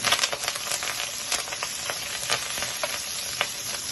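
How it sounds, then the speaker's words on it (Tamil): Curry leaves sizzle and crackle in hot oil while being stirred for a Kerala-style chicken curry, a steady close frying hiss with scattered sharp pops throughout. "நல்லா வாசம் கொடுக்க ஆரம்பித்ததும் கொஞ்சம் கருவேப்பிலையை சேர்த்துக்கலாம்."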